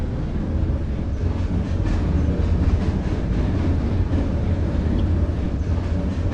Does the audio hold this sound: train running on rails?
yes